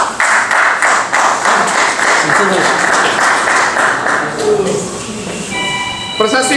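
Audience at a journalists' federation honouring ceremony in Burhanpur claps for an honoree, a loud steady patter that carries on for several seconds and then fades as a voice begins speaking.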